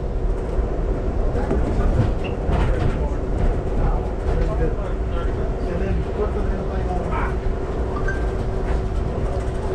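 Aboard the Amtrak train number 59 from Chicago to New Orleans, a steady rumble and clatter of the rail cars runs throughout, with a faint clickety-clack rhythm and a voice talking over it.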